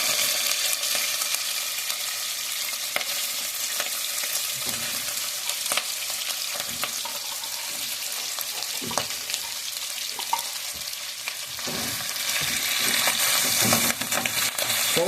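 Corned beef stir-fries in a pot over medium heat, giving a steady, close sizzle with crackle and occasional stirring scrapes throughout, with no talking.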